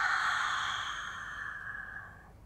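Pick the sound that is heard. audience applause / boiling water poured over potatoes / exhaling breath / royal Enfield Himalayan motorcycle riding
exhaling breath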